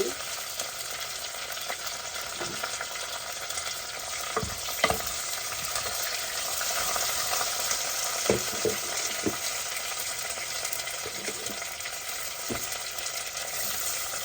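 Curry leaves fry in oil in a clay pot for a fish kuzhambu, giving a continuous crackling sizzle with a few louder pops and stirring scrapes scattered through it.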